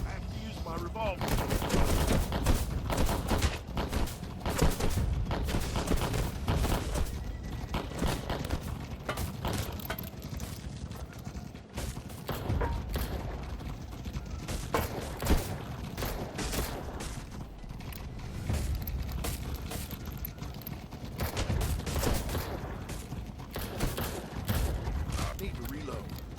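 Revolver gunshots ring out in the VR Western game Black Trail, repeated loud cracks scattered across a dense, busy game soundscape, with someone talking over much of the action.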